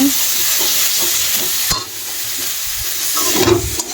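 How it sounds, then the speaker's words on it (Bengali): Food being sautéed (kashano) in a pan, a loud steady sizzle with stirring scrapes and a couple of sharp utensil knocks, no talking. "ভালোভাবে কষানো হয়ে যাচ্ছে"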